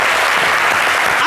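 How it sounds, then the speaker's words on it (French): An audience gives a loud, dense ovation of applause honoring the Niabois people, continuous and close throughout. "Ovation pour le peuple Niabois"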